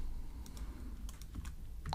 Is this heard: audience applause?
no